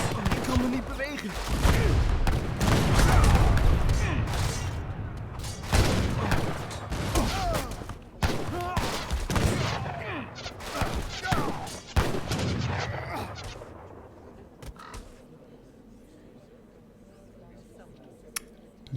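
Age of Empires III battle noise: booming artillery and volleys of musket gunfire pound loudly through the first half, then thin out and fade to quiet, with a commentator talking over it.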